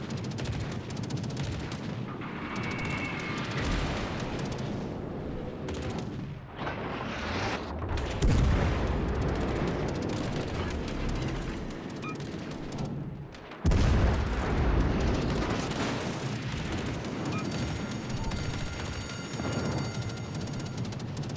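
Warship guns firing in World of Warships Legends, with dense, continuous booming salvos and rumbling blasts, loud and close, including sharp heavy bursts partway through.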